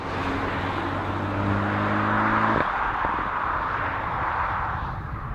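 A Peugeot 308 GTi accelerates hard, its engine note climbing in steady rising tones. The sound then cuts to a smooth, rushing roar as it gathers speed, with no talk over it.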